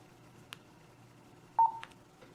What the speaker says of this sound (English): Once this action is completed, you will hear a brief beep